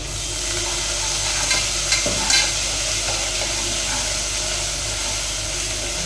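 Ginger garlic paste frying in a cooker while it is stirred makes a loud, steady sizzle with a low background hum, and a couple of brief spoon scrapes stand out in the middle, close and without speech.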